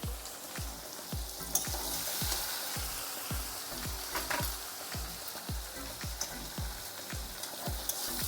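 Diced potatoes dusted with a little turmeric sizzle steadily in a hot pan, with regular scraping strokes of a spatula marking a brisk stirring rhythm throughout, close and continuous with no talking.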